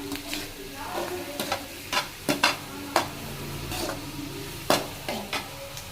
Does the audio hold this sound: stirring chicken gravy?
yes